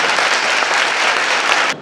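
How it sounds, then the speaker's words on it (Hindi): A crowd at a women's empowerment camp gives loud, vigorous applause in honour of a school principal, continuous, close clapping that cuts off abruptly at the end. "जोरदार तालियों से"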